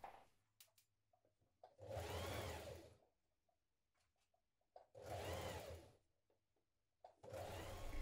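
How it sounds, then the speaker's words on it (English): A sewing machine stitches a one-centimetre seam in denim jeans near the fly shield, running in three whirring bursts of about a second each, separated by quiet pauses. "We're now going to stitch that in place with a 1 centimetre seam."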